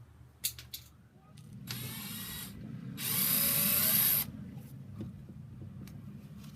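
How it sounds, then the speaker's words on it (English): A power drill whirs in two bursts into plastic on a 2001 Triumph Bonneville motorcycle, the second louder and higher-pitched as it bites in, with a few clicks and knocks around it, close by. "I got a little bit of a hole in it with the drill"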